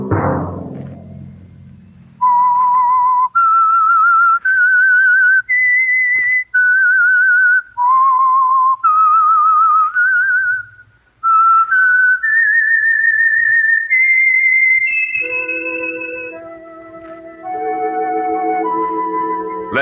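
A clear, loud whistled melody, the theme of the 1949 radio drama The Whistler, note by note in short phrases, rising through the tune and ending on a lower sustained passage, with no talking.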